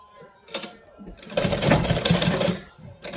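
A sewing machine stitching a pleat on a salwar, a close, loud whirring run of stitches with a short burst before it, someone speaking between runs.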